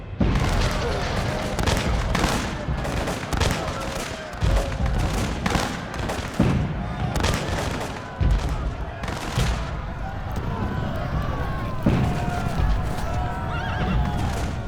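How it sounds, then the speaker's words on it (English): A battlefield scene with Mameluke horsemen charging a square: musket volleys crack out at point-blank range amid neighing horses and clattering hooves, a dense, chaotic din with bursts of firing throughout. "They greet the Mamelukes with salvos of fire at point-blank range"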